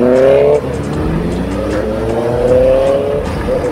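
Kawasaki motorcycle engine revving hard during a wheelie, a loud continuous rising and falling engine whine close by with rough mechanical roar underneath, no talking.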